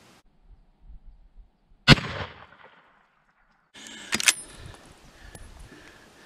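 Rifle with a freshly repaired muzzle crown firing a single sharp, loud shot outdoors, followed by a short decaying echo, then another burst of noise after a quiet pause.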